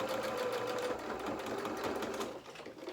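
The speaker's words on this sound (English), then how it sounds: "And then I'm going to pop that into my machine, and we're going to just sew over the edge again like we did for the other side." A domestic sewing machine stitches over the hem edge of small doll-sized bloomers, a close, steady motor whirr with rapid needle patter running unbroken for a few seconds.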